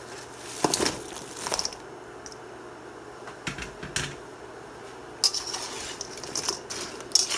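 Pork pieces being tossed and coated in a reduced honey sauce in a pan, heard as scattered scraping, clinking and sticky crackling clatter with quiet gaps, close and alone without talk.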